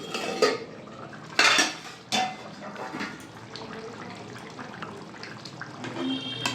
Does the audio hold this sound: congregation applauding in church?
no